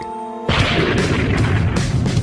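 A deep, loud explosion effect bursts in after a short tonal intro and rolls on as a sustained roaring rumble with no voices.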